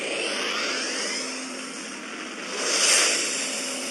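Spaceship warp drive in the video game Second Galaxy, a sustained airy engine roar with a faint whine that swells louder toward the end.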